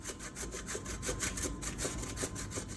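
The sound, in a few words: grating zucchini with a grater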